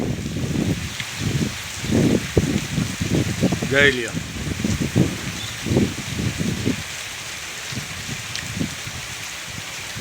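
Heavy rain pours steadily over farm fields in a continuous hiss, while someone talks over it for much of the time before the downpour carries on alone.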